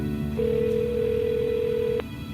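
Telephone ringback tone heard while calling a family house, a steady electronic tone lasting about a second and a half before cutting off, clear and alone with no voices.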